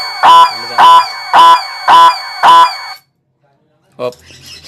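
A low-budget motorcycle anti-theft alarm sounds five loud, evenly spaced electronic beeps close by, then falls silent before a short final chirp.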